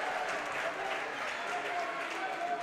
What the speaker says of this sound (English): And a nice cheer from the student section.